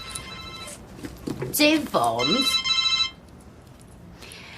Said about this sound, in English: Oh, that'll be me works phone.